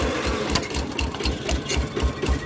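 A walk-behind two-wheel tractor with a belt-driven dual system runs its engine at high speed, a loud, close, steady fast mechanical chugging with a rapid pulsing rhythm throughout.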